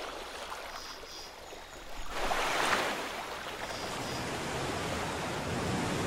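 Fast-flowing river water in The Flame in the Flood video game, a broad rushing wash that swells louder partway through and then holds steady, with no voices.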